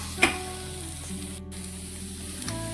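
Chopped tomatoes added to frying masala for egg curry give a faint, steady sizzle with a soft clatter at the start, low and continuous throughout.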